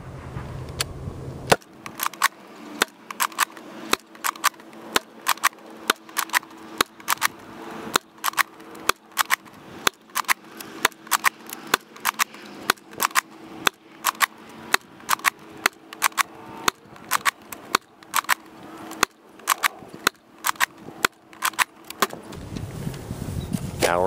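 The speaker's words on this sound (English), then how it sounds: "I am firing into a slight headwind" Buzz Bee Tactical Storm toy blaster firing darts outdoors into a slight headwind, a long run of sharp, evenly spaced snapping shots close by, steady and rapid for over twenty seconds, with no talking.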